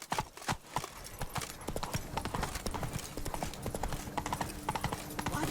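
The horse Roach's hooves clip-clop in a steady rapid rhythm in The Witcher 3: Wild Hunt, close and continuous under faint background game sounds.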